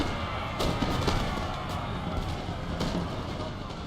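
Lines of muskets fire at point-blank range in a Napoleon Total War battle between the United Netherlands and Austria, rolling crackling volleys with a few sharper bursts over a constant rumble of battle.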